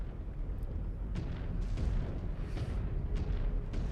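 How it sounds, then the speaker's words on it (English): A destroyed enemy mech blowing up in the Mechwarrior 5: Clans video game, a dense, sustained rumbling roar of explosions with several sharper bursts layered over heavy low-end, loud and continuous throughout. "That thing went up in explosion."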